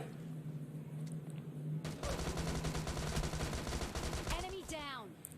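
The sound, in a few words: gunfire as an enemy is shot in PUBG Mobile Lite video game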